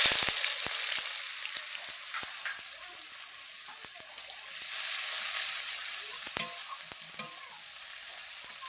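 Onions fry in hot oil with cumin, bay leaf and dry chilli over a rooftop wood-fired clay stove, giving a continuous bright sizzle punctuated by sharp clicks and spatula scrapes.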